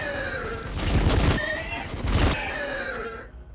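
Units firing weapons in Warhammer 40,000: Battlesector, two heavy roaring volleys of fire a second apart, loud and close, with whining tonal effects between them.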